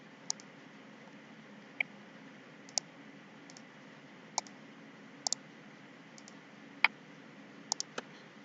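Computer mouse clicks while using ProtaStructure 2018 structural design software, crisp and quiet, sounding singly and in quick pairs at irregular intervals over a faint steady hum.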